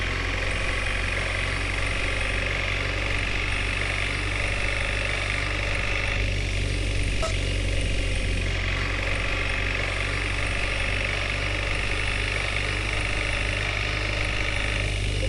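A bus engine idles in Bus Simulator Ultimate after the throttle eases off, a steady low rumble and hum that holds evenly without change, no voices.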